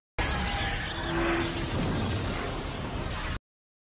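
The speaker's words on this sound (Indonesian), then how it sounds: "Karl melemparkan granat ultraviolet yang seketika meledak dan menghancurkan semua vampir hingga hancur lebur tak tersisa." A loud, sustained grenade blast from a film, with crackling debris and roaring rumble, lasting a few seconds before cutting off abruptly.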